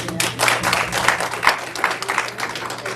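A church congregation applauds during a Sunday service. The clapping comes in close, fairly loud, pulsing bursts with a steady low hum beneath.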